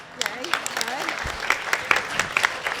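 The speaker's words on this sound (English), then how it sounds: "Applause." Audience applause at a high school March choir concert: a steady patter of clapping from a moderately sized crowd, heard close and continuous, with some voices mixed in.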